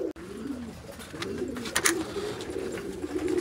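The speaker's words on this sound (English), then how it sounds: "So those are my pigeons." Male pigeons coo softly in soft, repeated throaty calls, several birds overlapping at close range against a faint background hiss, with no talking.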